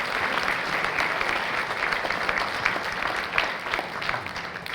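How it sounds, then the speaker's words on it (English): An audience at a Holocaust memorial service for Carpathian Jews gives a big round of applause, sustained and even, with occasional louder claps standing out. "They deserve a big round of applause."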